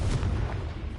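A Confringo blasting spell goes off in Hogwarts Legacy as a short, deep booming explosion, loud and close, rolling briefly before fading.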